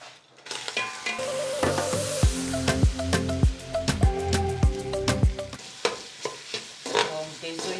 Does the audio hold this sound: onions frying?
yes